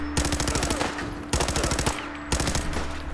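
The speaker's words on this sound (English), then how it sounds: "I've got my auto pistol out." Auto pistol fire in Fallout 4 comes in three rapid bursts of tightly spaced shots, loud and close, separated by brief pauses.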